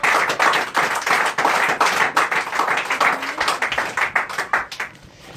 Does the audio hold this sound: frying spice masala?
no